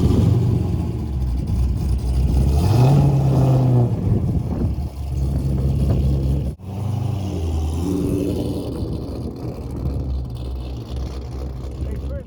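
A car being prepared for the SEMA show is driven out of a trailer, its engine rumbling loudly and close by, revving up and easing off in uneven bursts for several seconds.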